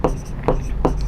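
Handwriting strokes of a pen on paper while an answer is written out by hand, three short scratchy bursts spaced roughly evenly, close and fairly loud with a steady low background.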